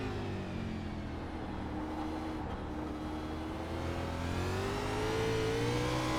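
A Nitro Xfinity race car engine in a racing game on the Chicago Street Course, held in second gear and carrying speed, droning steadily and building gradually in pitch and loudness.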